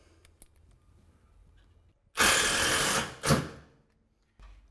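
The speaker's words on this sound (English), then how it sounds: "Fixing the batten up, we're going to use the GIB wafer head 32 by 8 gauge screws." A screw gun drives a GIB wafer head 32 by 8 gauge screw into a batten, a loud buzzing whir of about a second, then a short second burst as it seats, with quiet handling before and after.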